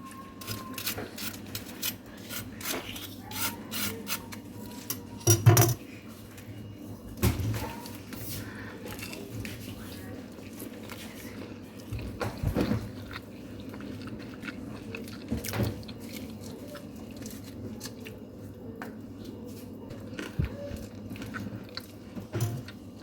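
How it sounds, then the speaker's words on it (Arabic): Crispy fried chicken thighs being bitten and chewed close up, a long series of scattered crunches and moist chewing sounds at an uneven pace, with one louder crunch partway through and no speech. "خليكم تسمعوا القرمشة ونبدا"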